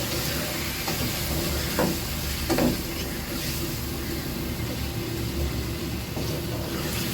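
Mutton pieces frying in a pan with garlic-ginger paste for a bottle gourd meat curry, giving a steady, moderate sizzling hiss throughout with a couple of faint clinks from stirring.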